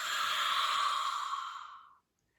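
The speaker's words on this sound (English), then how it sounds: "take a breath in through the nose, open the mouth wide and exhale" A long open-mouthed exhale practiced as Ujjayi breath, like fogging a mirror: one steady breathy hiss that fades out over about two seconds, followed by silence.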